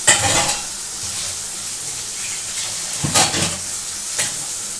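Fresh boal fish go into a hot pan of oil for a Bengali tel jhal curry, setting off a loud hissing sizzle with bursts of stirring and clatter, up close and with no voices.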